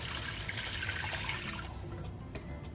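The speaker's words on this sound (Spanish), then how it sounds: "Vamos a echar el agua." Water pours steadily into a pot of lentils with a ham bone, a continuous splashing gush that thins out toward the end.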